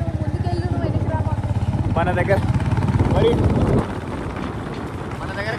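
A motorcycle is ridden through crowded streets at the 2025 Maha Kumbh Mela in Prayagraj. Its steady, throbbing engine sounds close and loud, with people talking over it, and it softens abruptly near the end.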